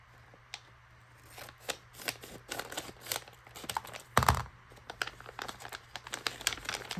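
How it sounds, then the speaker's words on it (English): Scissors snipping open a plastic bag of foam Christmas embellishments, with a series of close crisp cuts and crinkling plastic, including one louder crunch midway. "I'm gonna have to cut the bag as much as I don't want to."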